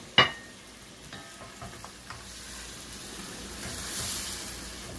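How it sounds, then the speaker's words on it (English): Chicken wings simmering in a lemon, cilantro and garlic sauce give a soft, steady bubbling sizzle close by, opening with a brief sharp clink, with no voices over it. "We leave it like 2-3 minutes boiling a little bit."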